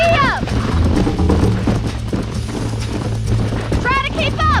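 Horse hooves clip-clop at a gallop in the Red Dead Redemption game during a race, steady and loud, while a horse whinnies and someone talks over the hoofbeats.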